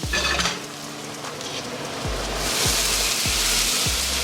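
Julienned shallots and cherry tomatoes sizzle steadily as they caramelize in a hot pan, with a few low knocks of the pan or utensil and the frying noise swelling louder toward the end.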